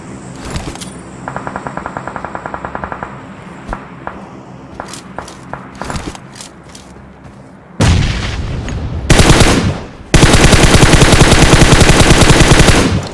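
Gunfire in the shooter game PUBG Mobile: a rapid automatic burst, scattered single shots and footsteps, then loud sustained automatic fire near the end, dense and close.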